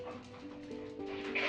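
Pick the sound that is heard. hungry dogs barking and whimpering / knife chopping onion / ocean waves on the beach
hungry dogs barking and whimpering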